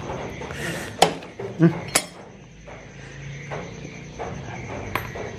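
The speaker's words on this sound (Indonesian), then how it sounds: "terus pakai kunci biasa aja kayak gini" An ordinary wrench loosens a bolt on a Honda Revo Absolute motorcycle, giving a few sharp metallic clinks and knocks at irregular intervals against a quiet workshop background.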